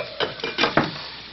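Shrimp in a hot pan off the heat, stirred and pulled with a utensil, giving four short sizzling scrapes close by over a faint frying hiss, with no talk.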